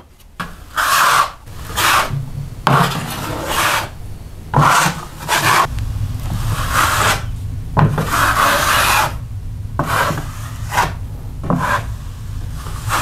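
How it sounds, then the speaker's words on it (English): A 10 to 12 inch drywall knife spreads a second coat of joint compound over a patched wall, giving loud, close scraping strokes in a steady back-and-forth rhythm with brief pauses between passes. "Now that you've sanded it, you can apply a second coat using your 10 to 12 inch knife."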